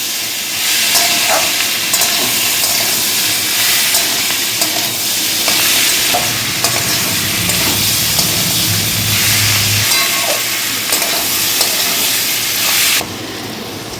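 Chopped goat meat fat frying with spices for Bengali ghugni: a loud, constant close-up sizzle and hiss, broken by intermittent clanks of stirring, with no speech.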